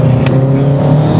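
A Subaru STI drives along the road to a racetrack, its engine a loud, steady close-up drone with a strong low hum and a brief brighter rush early on.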